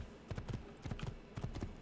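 Horse hooves clip-clop in the Assassin's Creed video game, a few bunched patters of footfalls repeating at a walking gait, moderately loud and close, with no talk.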